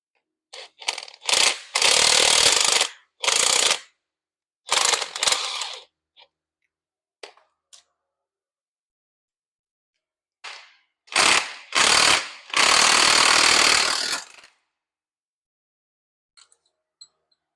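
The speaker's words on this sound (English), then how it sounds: "Try to get this bearing off this pinion and try to save it so I can use it as a mock-up." A puller draws a bearing off the pinion of a GM 10-bolt 7.5/7.625 differential with 4.10 gears, giving loud close bursts of ratcheting clicks in two groups separated by a quiet pause.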